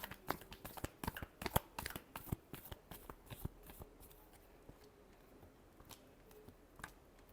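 Tarot cards being shuffled by hand make a quiet, close run of crisp riffling flicks and taps, denser at first and thinning out toward the end.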